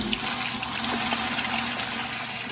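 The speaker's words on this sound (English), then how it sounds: "then we start adding our water." Water gushes steadily into a big pot for a seafood boil of king crab legs and shrimp, a loud, close, continuous rushing pour with nobody speaking.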